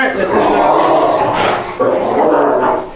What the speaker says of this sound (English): we got two silly dogs out here.